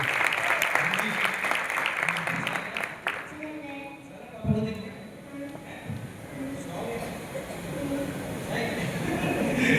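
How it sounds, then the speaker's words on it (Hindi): Audience at a Vestige Family Summit event clapping loudly in a dense, continuous burst, with a voice talking over the noise at times. "जोरदार ताली, जोरदार ताली।"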